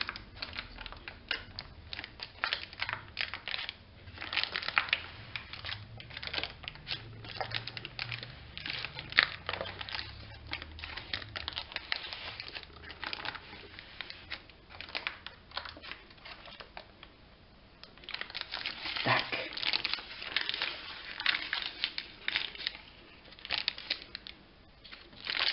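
A cooled zebra sponge cake being peeled out of its paper liner, giving soft, continuous crinkling and rustling of paper close up, with no talking.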